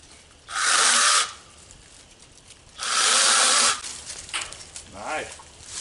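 A handheld IMOUM battery mini chainsaw whines through two short cuts, each about a second long, separated by quieter pauses, with a brief faint buzz afterward.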